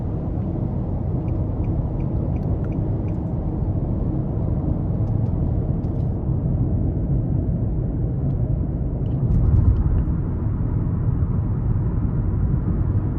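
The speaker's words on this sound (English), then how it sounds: "road noise, of course, this having the beefier tires and just your 16-inch steel wheels, is also pretty nice as well" Steady low road and tire rumble inside a 2024 Nissan Altima S on 16-inch steel wheels while driving, a constant broadband drone with a slight swell near the end.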